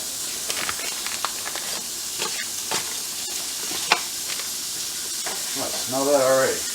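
Italian sausage sizzles and hisses steadily in a hot pan, with scattered pops and stirring scrapes, and a voice briefly rises over it near the end.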